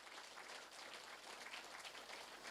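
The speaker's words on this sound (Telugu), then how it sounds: "మన జగద్గురు బ్రహ్మర్షి పితామహ పత్రిజీ గారికి ఒకసారి గట్టి క్లాప్ చేద్దాం." An audience at a meditation gathering applauds Patriji, a steady wash of many hands clapping throughout, quite faint and distant.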